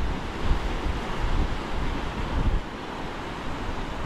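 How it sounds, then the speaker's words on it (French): Big ocean waves crash off the Galápagos Islands in a continuous rough rush of surf, heard from a moving boat along with heavy wind buffeting the microphone. "Waouh, les grosses vagues."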